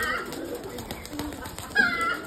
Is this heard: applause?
no